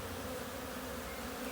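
Honey bees buzz steadily at an active beehive during a beekeeping hive tour in Crete, a dense, continuous drone of many wings held at an even level throughout, with no talking.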